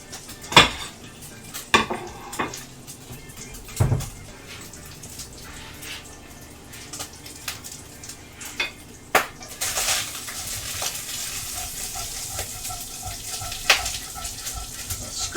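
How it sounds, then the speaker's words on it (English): Cooked bits being scraped off a pan with a utensil while making chicken and dumplings, a long run of close metallic scrapes and clatters at irregular intervals, with some water-like noise in the background. "Scrape off all those good bits"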